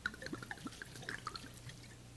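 Red wine poured straight from the bottle into a casserole: quick, irregular glugs and splashes of liquid, close and fairly quiet, with no talking.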